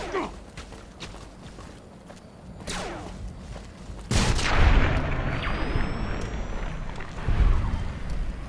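Grenade blasts in Fallout New Vegas, a sharp loud explosion midway followed by rumbling debris and a second heavy boom later, preceded by quieter scattered gunfire and clatter.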